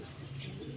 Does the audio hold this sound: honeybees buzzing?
no